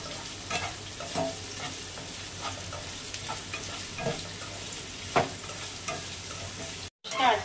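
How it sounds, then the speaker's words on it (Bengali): Two large onions fry together with ten cashew nuts in a pan, giving a steady close sizzle broken by scraping stirs, with no voices. "পেঁয়াজটা একটু ভাজা ভাজা হবে, আর এখানে 10টা কাজু বাদাম আছে, একসঙ্গে ভেজে মিক্সিতে পেস্ট করে নেব।"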